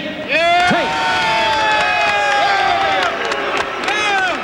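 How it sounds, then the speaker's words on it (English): A boxing-match crowd cheers, whoops and applauds loudly and continuously as Frank Tate is introduced in the ring before facing Dominick Carter, with a dense roar of voices close around. "Ladies and gentlemen, big round of applause for Frank Tate."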